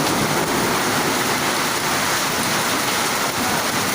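Hail falling in Cavite, a loud, continuous hiss and patter of ice striking surfaces that stays dense and steady throughout, with no talk.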